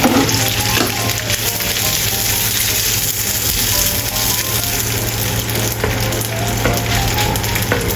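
Fish cake stir-frying in a pan for a cabbage dish, a steady loud sizzle with scraping spatula strokes running throughout.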